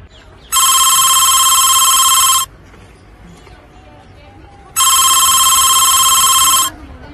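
A telephone rings in two long electronic bursts separated by a pause, loud and clear over a low background murmur of voices.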